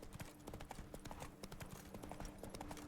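Hooves of the horse Roach pounding at a gallop in Witcher 3, a quick rhythmic clip-clop repeating throughout, quiet and steady.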